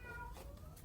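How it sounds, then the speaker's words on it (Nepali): A cat lets out one brief, faint meow, a short tonal cry against a quiet indoor background. "बिरालो"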